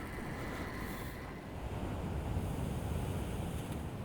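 Surf rolling onto Playa Buenos Aires beach in Trujillo, Peru, a steady broadband wash of ocean waves mixed with wind buffeting the microphone, with no voices.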